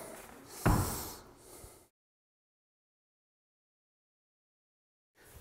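A door closes with a single solid knock-like thump over a laminate floor transition strip, followed by a short rustle and then silence.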